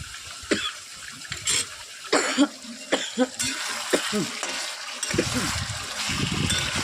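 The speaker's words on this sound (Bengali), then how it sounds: "কাশি এসে গেছে।" A person coughs a few times in a home kitchen while chicken and a potato-papaya curry cook, with short sharp bursts separated by quieter gaps, plus some water and clattering sounds.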